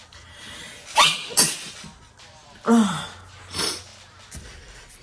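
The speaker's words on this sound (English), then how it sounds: "I gotta sneeze." A person sneezes sharply, then sniffs and breathes heavily, with another burst of sneezing-like exhalations close to the microphone.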